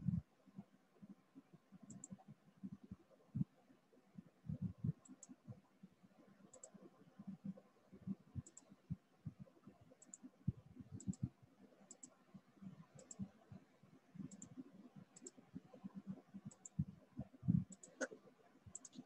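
Mouse clicks in a computer software session, sharp isolated clicks spaced every second or so over a faint low hum, with no talking.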